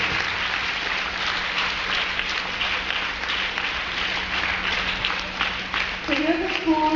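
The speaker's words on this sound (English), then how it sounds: "So one big round of applause for your PTA." A school audience gives the PTA a big round of applause, a dense, steady crowd clapping that stays loud for the full stretch, with a voice starting to speak over it near the end.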